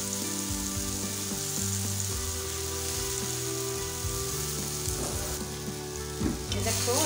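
Tomatoes fry in oil in a pan while being stirred and mixed, a continuous close sizzle with soft scraping and stirring sounds throughout.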